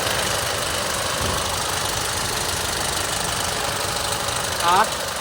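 Toyota Innova 2.8 2GD diesel engine running with a loud knocking fault, a constant rough clattering drone close by, with a brief louder rattle near the end.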